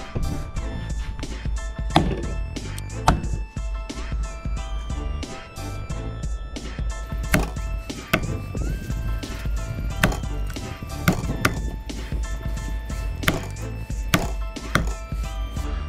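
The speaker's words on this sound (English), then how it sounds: "just get one of these bad boys and start chopping it up" Heavy cleaver chops land repeatedly on kangaroo meat and bone, sharp thwacks at an uneven pace, loud and close, with no talking.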